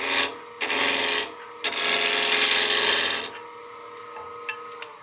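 Wood lathe cutting a tenon on a spinning wooden block: harsh, scraping, rasping passes of the tool against the wood, two short bursts and then a longer sustained cut, close and loud, separated by quieter gaps.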